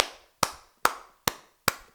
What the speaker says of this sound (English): Clap it up for the dog.